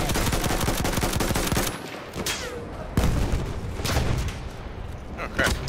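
Rapid automatic gunfire from the Battlefield 1 video game rattles in a fast, dense burst, then pauses before sharper single shots and short bursts crack out, loud and close, with a player's voice heard briefly between.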